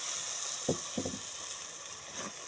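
Milk poured into chicken biryani in a rice cooker, a steady close sizzle with a few sharp bubbling bursts and stirring sounds.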